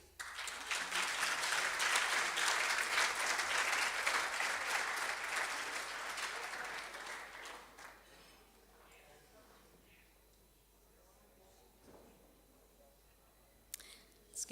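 Audience at a rugby referees' annual awards dinner claps loudly and steadily for several seconds, then the applause fades into a quieter room with a few scattered claps near the end.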